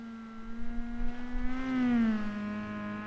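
A WRC rally car engine in the WRC 10 racing video game holds a thin, buzzy tone that rises and settles at a steady rev, with no one speaking.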